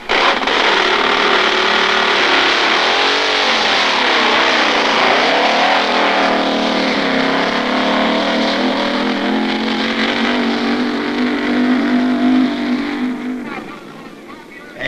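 A 1960s drag racing car makes a run at Atco, its engine roaring loud and continuous with pitch sweeping up through the gears before fading near the end, with a voice speaking over it.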